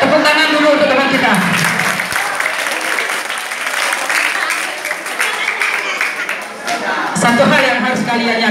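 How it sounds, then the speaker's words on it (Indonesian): Students in a classroom applaud a classmate with loud, sustained clapping that swells and fades, and brief voices at the start and end. "Tepuk tangan dulu untuk teman kita."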